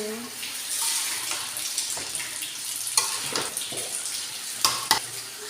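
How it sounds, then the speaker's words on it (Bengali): Cauliflower and other vegetables go into hot oil and frying spices for a rohu fish curry, giving a steady close sizzle with sharp clinks and scrapes of stirring in the pan. "এখন আমি সবজিগুলো সবগুলা দিয়ে দিব।"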